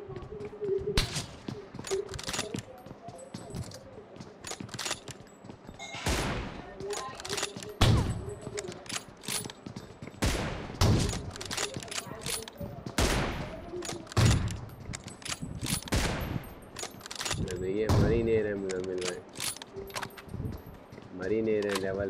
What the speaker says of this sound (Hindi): शॉट मार रहा हूँ मर नहीं रहे